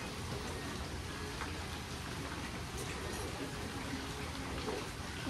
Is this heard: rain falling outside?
yes